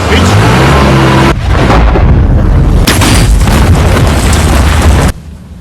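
A loud, continuous explosive roar from a film, with a dense broadband blast sustained for about five seconds and brief shifts in intensity before it cuts off.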